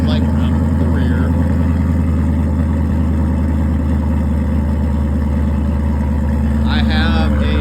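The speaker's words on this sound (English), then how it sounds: "But here is what she sounds like from the rear." A 2018 Dodge Durango R/T with a Whipple supercharger, heard at the rear by the exhaust, idles with a deep, steady, pulsing rumble. The engine note stays constant, with faint voices near the start and end.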